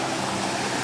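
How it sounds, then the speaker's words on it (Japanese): A continuous broadband rush of flowing water, steady and fairly loud, like a nearby stream or small cascade, with no voices; a mountain river beside Kotaki Kosen hot spring inn in a forest in Tochigi, Japan. "目の前に川があります。"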